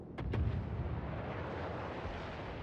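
Naval guns fire in the World of Warships game as two quick sharp blasts, followed by a heavy, continuous low rumble of battle noise.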